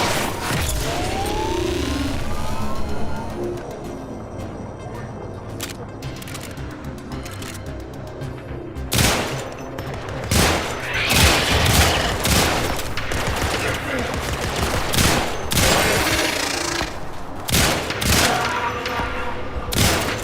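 Gunfire in the sci-fi shooter game Warframe: rapid, sharp shots come in uneven clusters and bursts over a busy backdrop of combat noise, loud and close, thickening in the second half, with a voice talking at times.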